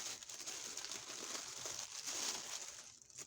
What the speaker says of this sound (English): I'm sorry about the crinkling. They packaged them in individual packaging.